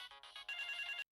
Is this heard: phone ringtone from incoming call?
yes